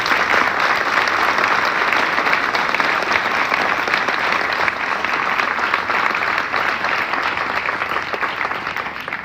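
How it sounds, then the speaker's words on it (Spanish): An audience gives a guest speaker at a Suzuki Autos Ecuador masterclass a warm, strong round of applause, dense steady clapping that fills the whole stretch and eases slightly at the end. "para quien pido un caluroso y fuerte aplauso"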